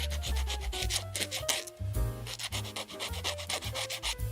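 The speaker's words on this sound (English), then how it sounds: "Follow the curvature when filing down." A file rasping steadily back and forth along a plastic part of a 1/24 Type 98 Special Control Vehicle model kit, close and dry in quick repeated strokes with no talking.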